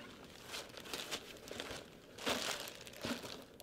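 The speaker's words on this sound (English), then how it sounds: "we have the cadaver bag, which is a nice Ziploc bag" A plastic zip-up cadaver bag crinkling as it is handled, with irregular bursts of crisp rustling and crunching, close and moderately loud, with no voices.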